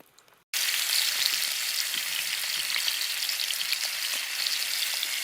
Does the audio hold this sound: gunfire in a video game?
no